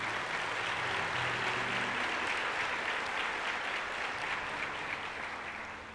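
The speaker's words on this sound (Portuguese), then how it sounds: "Você pode aplaudir a Jesus aí?" A church congregation applauds for Jesus during a service, steady dense clapping that fills the room and fades slightly toward the end.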